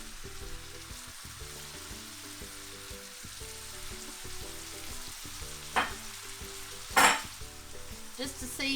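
Cabbage and broccoli fry in a pan with a steady, busy sizzle, punctuated near the end by a few sharper crackles and spits as the vegetables are stirred.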